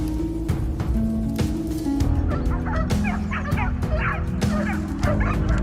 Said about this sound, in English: The distant barking of our dogs echoed through the forest